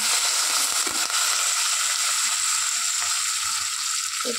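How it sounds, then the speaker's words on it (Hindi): Curry leaves sizzle and crackle in hot oil in a pan while being stirred, a loud steady frying hiss with occasional pops and no talking. "इसमें ऐड करेंगे अपन करी पत्ता। इसको भी अच्छे से मिक्स करेंगे"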